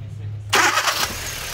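A Kia Soul with a misfire cranks and starts, a loud broadband burst of engine noise catching abruptly after a low steady hum, then settling into a rough running sound.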